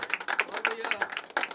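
Audience clapping after a spoken-word poetry set at an open mic at The Habitat, a short burst of scattered, fairly close handclaps with an uneven rhythm.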